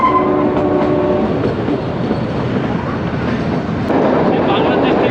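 Kalka–Shimla toy train climbing a mountain railway toward Shimla, its steady rumble and rattling carriages filling the clip with continuous near noise, a voice speaking over it.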